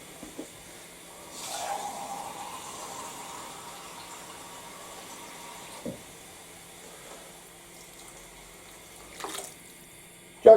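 Half a pint of water pours from a tap or jug into a pot of veggie chilli, a steady hissing, splashing flow that swells after the first second, then runs on softly with a few sharp knocks near the end and no talking.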